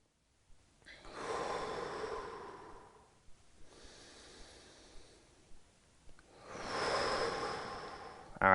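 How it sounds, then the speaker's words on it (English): Slow, deep breaths during a yoga hamstring stretch: two long, close airy exhales or inhales, each lasting a couple of seconds, separated by a quieter pause with soft rustling. "Take 2 breaths here."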